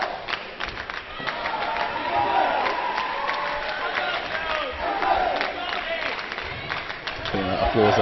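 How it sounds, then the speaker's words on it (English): A crowd at a women's football match between England and Wales applauds and cheers steadily, with scattered clapping and shouts blending into a continuous roar under voices. "Applause."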